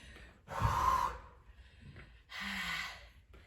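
Heavy breathing during a high-intensity resistance band home workout: two long, loud exhalation bursts separated by quieter breaths, close to the microphone with no talking.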